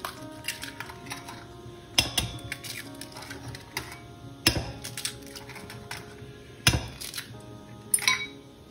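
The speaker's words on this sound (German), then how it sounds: "Die Eier in eine Schüssel aufschlagen, die Eierschalen werden sofort entsorgt." Eggs cracked one after another into a bowl for a Spanish tortilla, giving several sharp shell taps at irregular intervals over a low kitchen background, fairly close and moderately loud.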